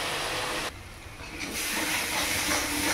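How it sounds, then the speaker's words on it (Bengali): Spice paste for a Bengali fish curry cooks over a low gas flame, giving a steady close hiss that drops away briefly midway and then returns, with no talking. "এবার গ্যাসটাকে একটু কমিয়ে কমিয়ে আমি মশলাটাকে কষাবো।"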